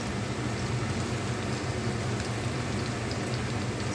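Finely chopped onions and green chilies sauté in a pan, giving a constant soft hiss and crackle that stays even and moderately quiet throughout.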